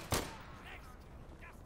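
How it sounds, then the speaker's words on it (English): A single sharp gunshot cracks out early in a Day of Infamy World War II shooter match, followed by a low rumbling battlefield ambience and faint distant reports. "I'm getting shot by my teammates"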